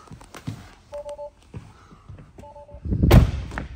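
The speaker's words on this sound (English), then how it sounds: "we'll open the door up, walk out of the vehicle." Door of a 2023 Tesla Model Y Long Range opening and shutting, with a few soft thunks and a louder closing thud near the end, accompanied by short electronic chime tones.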